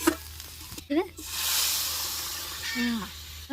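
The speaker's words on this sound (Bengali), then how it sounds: "পেঁয়াজ দিলাম, পেঁয়াজ" Onion goes into a hot pan and sizzles, with a hissing burst swelling after a short clatter. Brief voice-like sounds come before and after, and the sizzle fades toward the end.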